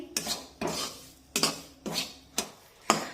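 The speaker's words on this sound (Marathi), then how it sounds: "हे बेसन पीठ मी एकसारखं असं उलटण्याने हलवून घेते" A spatula stirs besan flour roasting in a pan over a low flame, giving six crisp scraping strokes at a steady rhythm of about one every half second, close and fairly quiet, with no talking.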